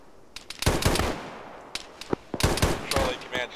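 Gunfire in a military video game: several loud bursts of automatic rifle fire and single cracks in uneven clusters, close by, with brief pauses between volleys.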